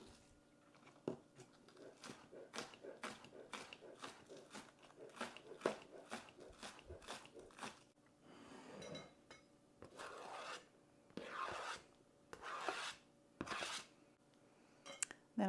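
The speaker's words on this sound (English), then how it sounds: "now I'm going to cut 3 green onions" A knife chops three green onions on a cutting board in quick, crisp strokes, a steady run of close taps followed by a few longer, louder scraping cuts.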